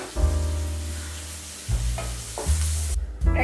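Onions and green chillies fry in a pan with a soft sizzle, broken by a few louder stirring scrapes and clatters spaced about a second apart.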